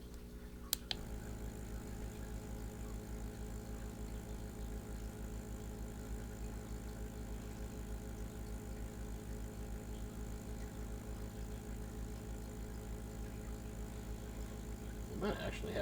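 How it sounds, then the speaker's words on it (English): An Aquarium Co-Op air pump runs steadily close to the microphone, giving a constant low hum with a buzzing tone that holds without change for about fifteen seconds, with a couple of brief clicks near the start and end. "I'll have some testing so you can hear the pumps directly"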